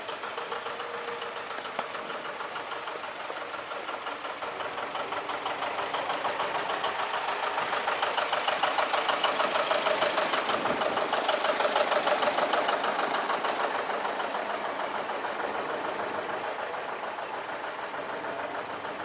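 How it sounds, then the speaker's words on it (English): A 1960 John Deere 730 tractor engine runs steadily in a parade, a continuous mid-pitched knocking drone that swells louder for a few seconds as it passes, then eases off. "This is a 1960 John Deere 730 owned by Bob DeVoy"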